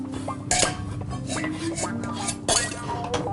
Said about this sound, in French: Là, tout ça ensemble, il faut bien couper, très fin.